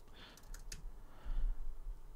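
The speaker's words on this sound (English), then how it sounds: "So you're going to have to type these out." Light typing on a computer keyboard, a handful of quick, soft key clicks and taps, fairly close, over a quiet background with no talking.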